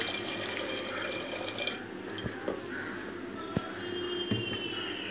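Steady running water fills a pressure cooker for a green gram dish, a continuous splashing wash with a few small clinks and drips, fairly close.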